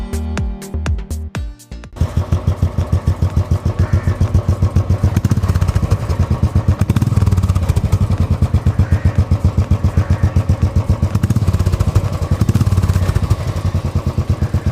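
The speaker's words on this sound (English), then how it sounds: "Royal Enfield Classic 350 stock silencer." A Royal Enfield Classic 350 single-cylinder motorcycle with stock silencer starts up and settles into a steady, thumping exhaust beat, loud and close, revving slightly at times.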